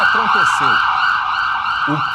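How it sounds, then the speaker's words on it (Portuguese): A police siren sound effect wails continuously at a steady high pitch, loud and near, with brief rising chirps and a short electronic blip layered over it. "Pode colocar a sirene em operação da polícia"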